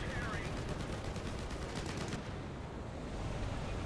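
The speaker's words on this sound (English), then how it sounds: "Gave up on it and went back to firing machine guns at him." An M551 Sheridan's vehicle machine gun fires in War Thunder at an ME-109 over a Sinai desert map, a rapid steady burst that stops about halfway through. Loud game audio, then a continuous rumbling roar.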